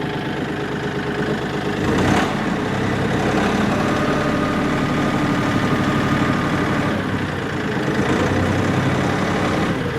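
A tractor engine runs steadily in two-wheel drive, a dense, continuous mid-to-low rumble close by, holding an even level throughout with no speech.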